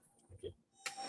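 A boxing bell rings to close a boxing talk-show episode, sounding as a bright metallic strike that sustains near and fairly loud after a brief muffled thump and faint background murmur.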